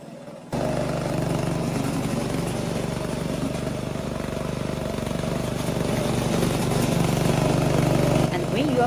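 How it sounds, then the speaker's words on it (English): The engine of a VIGORUN VTLM600 brushless remote-controlled mower is cranked and then runs at a steady idle, a loud continuous mechanical drone that lasts to the end with no pauses. "When it's time to start the engine, first remember to push this to the front and use this lever to crank it up."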